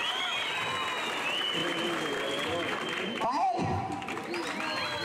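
Crowd applause at a village fiesta and rodeo for the Virgin of the Nativity in a Mixe community, clapping mixed with crowd noise while an announcer talks over a loudspeaker.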